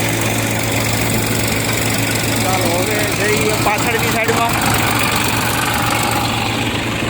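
A mini tractor engine runs continuously with a loud, rough drone and rattle, close by, while a person speaks briefly over it.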